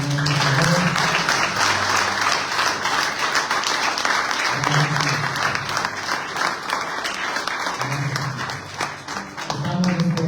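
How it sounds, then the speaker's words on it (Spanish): A congregation at a Sunday thanksgiving church service applauds loudly and steadily for about ten seconds, a dense wash of clapping with faint tones and voices underneath. "Denle un aplauso al Señor, por favor."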